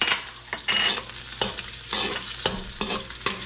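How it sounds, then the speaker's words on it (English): Garlic sizzles and crackles in hot oil, with repeated scraping stirs of a utensil against the pan at close range. "We're gonna put our garlic over here. See? You hear it? Sizzle,"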